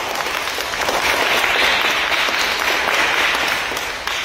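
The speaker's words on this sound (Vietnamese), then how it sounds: "cho con một tràng vỗ tay thật lớn nữa nào" A crowd of people, gathered after a young girl recites scripture readings at a church New Year gathering, bursts into steady, dense applause that holds loud and even throughout, easing slightly at the end.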